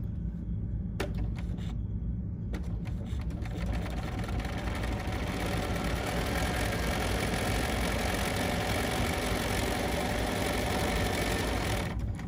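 Bernina sewing machine running steadily as it zigzag stitches over cording for couching, a continuous mid-pitched motor whir with fine rapid needle ticking, a few short starts at first, then an unbroken run until a stop near the end.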